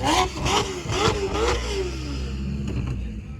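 A RUF RT Turbo or Ferrari Monza SP2 sports car revs hard up close, several loud rising engine pulls in quick succession before the note settles into a steady rumble.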